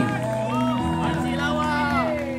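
Guests at a wedding ceremony for Erra Fazira and Ezwan Zain cheer and whoop for the couple in a loud, mingled burst of voices, with shouts rising over the hubbub.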